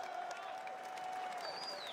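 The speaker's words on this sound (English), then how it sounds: "you guys can clap for the man" A brief burst of applause from a Street Fighter 6 tournament audience at EVO Las Vegas, even and sustained, with a faint tonal whine running underneath.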